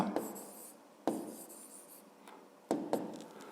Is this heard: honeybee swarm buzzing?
no